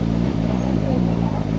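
A CFMOTO 500SR four-cylinder motorcycle engine runs steadily at low revs while shifting back into first gear, giving a continuous close, moderately loud drone with slight dips in pitch.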